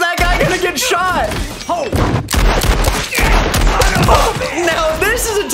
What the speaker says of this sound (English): How many times is that guy gonna get shot?